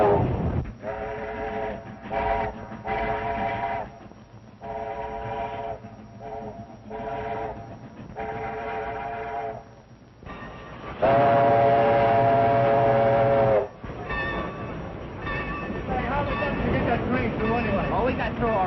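A train whistle sounds in several repeated blasts, one long and loud, over rumbling rail noise, with some voices in between.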